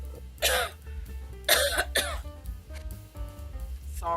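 Several quick coughs from one person, about three separate bursts in the first two seconds, close but fairly quiet, with a low background hum and no talking.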